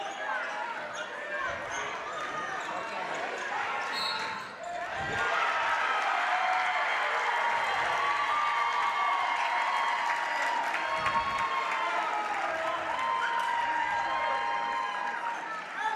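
A crowd at a boys high school basketball game, Hazen against Peoples, roars with sustained cheering and applause after a late foul call. The noise swells loudly and holds steady, with a few thuds and voices mixed in.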